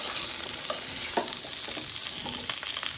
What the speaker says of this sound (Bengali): সিম দিয়ে এটাকে আমি আবার একটু নেড়ে চেড়ে দিচ্ছি।